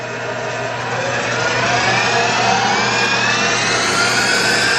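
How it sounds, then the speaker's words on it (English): A 2000 Atrump B5FC CNC machine spindle winding up to maximum RPM, a loud steady whine rising gradually in pitch over several seconds, continuous and close with no talk. "I want you to take it to max RPM."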